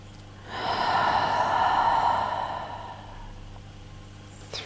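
A long, steady nasal inhale during a breathwork exercise, close and breathy, swelling for about two seconds and then tapering off, with no talking over it.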